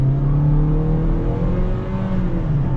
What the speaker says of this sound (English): let's go right into sport and test out this economy car up to 35.